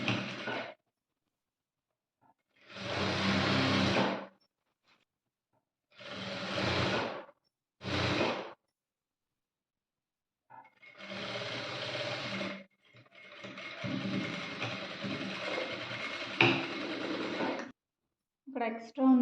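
A sewing machine stitches a dress made from a saree in bursts of steady mechanical whirring. The bursts are separated by silences and someone talks between them.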